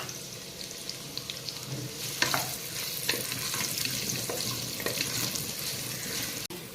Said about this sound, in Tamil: எல்லாத்தையும் சேர்த்து நல்லா வதக்கணும், ப்ரௌன் கலர் வர வரைக்கும்